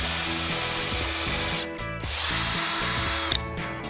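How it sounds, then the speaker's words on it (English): A power drill runs a number 8 countersink bit into wood for a brass screw, with a steady close whine, a brief pause, then a second higher-pitched burst of cutting. "I need to countersink it with a number 8 countersink bit."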